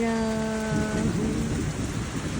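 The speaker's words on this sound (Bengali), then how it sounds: "এত বৃষ্টি পড়ছে, মাঝ রাস্তায় আটকে আছি" Heavy rain pours down during a thunderstorm while someone is stuck partway along a road, a dense roar that opens under a brief tonal hum and rumbles on without a break.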